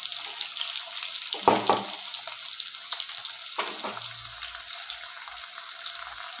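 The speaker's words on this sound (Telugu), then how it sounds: "చూడండి ఆనియన్ అయితే బాగా మగ్గుతుందండి" Chopped onions frying in a pan while cooking jeedipappu upma, a continuous close sizzle broken by a couple of stirring scrapes.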